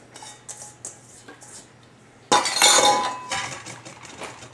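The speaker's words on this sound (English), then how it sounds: "So just dump your apples in there." Finely chopped, cored and peeled apples tip into a glass mixing bowl for apple cake with a sudden clattering rush. A few light clinks come before it, then softer tumbling as the pieces settle.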